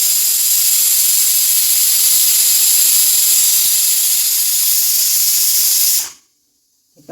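A pressure cooker releases steam in a loud, steady hiss that holds for about six seconds, then cuts off abruptly into near silence.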